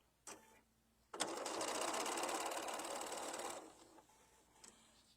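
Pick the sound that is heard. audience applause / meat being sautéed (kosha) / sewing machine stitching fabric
sewing machine stitching fabric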